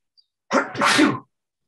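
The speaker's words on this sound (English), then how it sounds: "excuse me, I have to sneeze." A single loud sneeze with a sharp intake then a burst, close to the microphone, with silence on either side.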